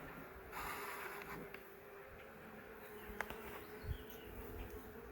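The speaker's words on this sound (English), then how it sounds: "So these are the laying worker bees" Laying worker bees in a nuc hive hum with a steady, faint, close buzz, with occasional louder individual wingbeats passing near and a few soft bumps.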